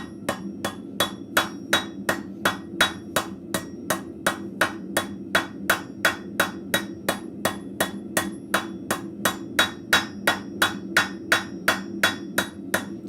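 A blacksmith's hammer strikes hot scrap steel on an anvil while forging arrowheads, landing about two steady, moderate blows per second in a long even rhythm with the anvil ringing, and no talk.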